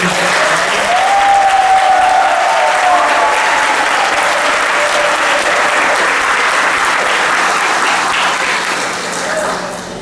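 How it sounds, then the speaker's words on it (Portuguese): Loud, steady applause from a large congregation at a Mass rolls on for several seconds, with faint voices mixed in, tapering slightly at the end. "Uma salva de palmas."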